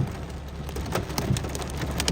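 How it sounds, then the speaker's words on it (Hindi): Heavy rain with hail falling in Makkah, a dense continuous hiss of drops with scattered sharper ticks and pops of hailstones striking surfaces nearby, steady throughout. "आज मक्का मुकर्रमा में बेहतरीन बारिश हो रही है और बारिश के साथ साथ ओले भी पड़ रहे हैं।"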